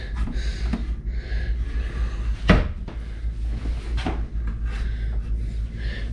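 Cupboard and pantry doors in a tiny house kitchen open and shut, giving a few soft knocks and clicks around a steady low room hum, with one sharper thud near the middle.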